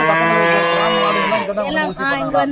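Cattle at a village livestock disease-prevention camp moo loudly and close by, one long drawn-out call followed by shorter broken lowing.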